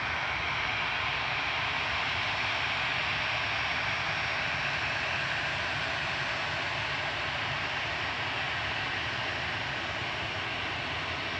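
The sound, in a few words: jet airliner engines as aircraft pushes back and taxis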